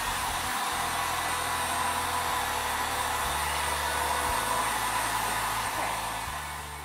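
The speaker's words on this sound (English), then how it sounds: "I'm gonna get my heat gun and just dry it a little bit" A heat gun dries fresh white paint on a vintage nativity figure of Joseph, blowing a loud, steady, close roar that runs unbroken and tapers slightly at the end, with no talking.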